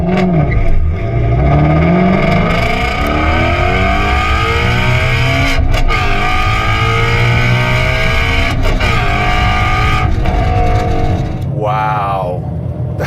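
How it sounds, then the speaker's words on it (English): A loud, close 2016 Ford Mustang Shelby GT350R engine revs and roars continuously with rising and falling pitch, while a voice talks over it. "Okay, that is loud, but there's an exhaust button to make it louder."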